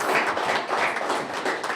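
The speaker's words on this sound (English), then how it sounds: "give that a hand clap." A crowd claps in a pulsing, continuous round of applause, steady and fairly close with no voices over it.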